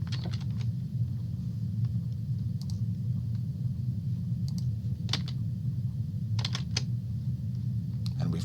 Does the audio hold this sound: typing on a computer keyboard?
yes